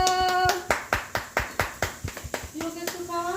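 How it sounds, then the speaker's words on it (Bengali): A small group claps at a birthday celebration, a quick run of about a dozen sharp claps, close, with voices singing or calling over the start and end. "হাততালি।"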